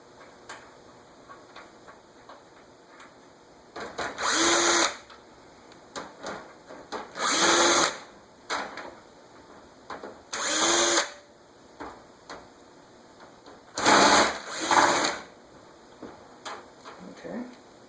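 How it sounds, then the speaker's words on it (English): A cordless screwdriver drill whirs in five short bursts, some in quick pairs, spaced a few seconds apart, with light clicking and handling noise between them, while loosening screws on an Air King 20-inch box fan. "I got the cordless screwdriver drill, which is essential"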